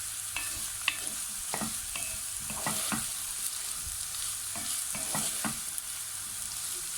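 Sliced onions sizzling in a hot frying pan for chicken tantuni, a constant hiss broken by frequent spatula scrapes and taps as they are stirred, with no talking.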